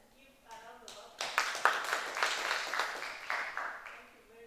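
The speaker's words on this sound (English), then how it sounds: "let us give a round of applause" A small audience claps after a presentation in a theatre, scattered hand claps building into brief applause that stays fairly quiet and distant, with speech heard at the start.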